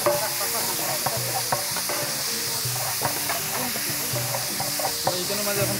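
Vegetables and green chillies frying in oil with ginger, garlic, tomato and onion, a continuous close sizzle with many small crackles and scraping stir strokes throughout.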